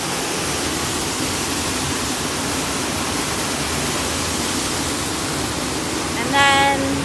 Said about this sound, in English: let me show you a little bit better the waterfall